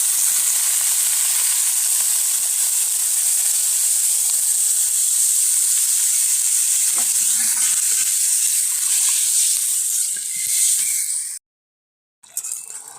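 Water poured into meat curry in a pressure-cooked pan gives a loud, steady hissing sizzle and steam that hold for about eleven seconds before a brief cutoff, with faint stirring underneath.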